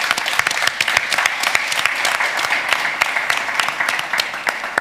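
Conference audience at a discovery stage clapping steadily after a presentation, a dense, sustained round of applause with crisp individual claps throughout, no voices standing out.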